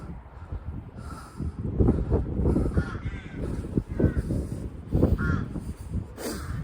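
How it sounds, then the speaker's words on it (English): A flock of crows caws repeatedly, overlapping harsh calls close and loud, with some wind noise underneath. "Why do we have like a million crows?"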